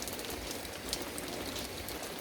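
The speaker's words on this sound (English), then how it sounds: "wet rain will wake me up probably." Rain falls at a big cats sanctuary during a thunderstorm, a steady close patter on surfaces, moderately loud and unbroken over two seconds with no voices.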